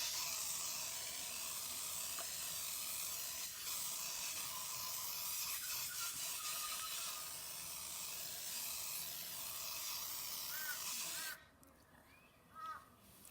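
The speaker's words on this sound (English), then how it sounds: "I might get it sprayed up with primer" A continuous hissing spray of primer paint runs steadily for about eleven seconds, close and loud, then stops, leaving a few faint bird caws in the quiet.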